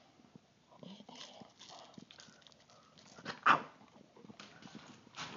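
A single sharp dog bark stands out close by amid faint snuffling and shuffling sounds in an otherwise quiet space.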